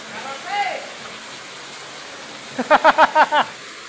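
Rain falls steadily on a wet afternoon, a soft continuous hiss in the background, while a short burst of rhythmic voiced sounds breaks through near the end.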